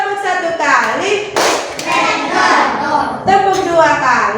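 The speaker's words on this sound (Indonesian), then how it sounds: "Kita coba tepuk 1 kali" A classroom of children claps in unison during a warm-up clapping routine, a single sharp burst of claps rising out of ongoing teacher and child chatter, with voices continuing around it.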